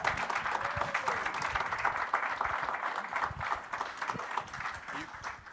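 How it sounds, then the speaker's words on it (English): An audience at a Pan-Africanism forum in New York City applauds in sustained, dense clapping that stays even for several seconds, with faint voices and a brief whoop mixed in. "Can we give Eugenia a round of applause,"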